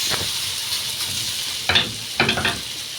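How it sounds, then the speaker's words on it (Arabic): Halved potatoes are added to a pan of hot oil and fry with a steady loud sizzle and hiss, broken by a few sharper crackling bursts as they are stirred. "هنا حاطة شوية زيت. هبتدي بقى احط نص كمية البطاطس."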